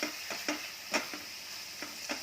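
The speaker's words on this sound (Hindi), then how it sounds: "इसको अच्छे से मिक्स करेंगे और 1 मिनट तक इसको भूनेंगे" Ginger and green chili frying gently in a pan over low heat, with soft sizzling and a few sharp stirring scrapes and taps spaced through the short stretch, no voices.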